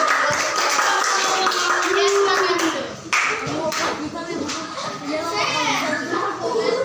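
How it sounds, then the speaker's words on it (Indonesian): Children in an Indonesian primary school classroom clap together, a busy, fairly loud burst of hands with chattering children and an adult voice speaking over it. "kita beri tepuk tangan"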